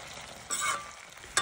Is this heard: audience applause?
no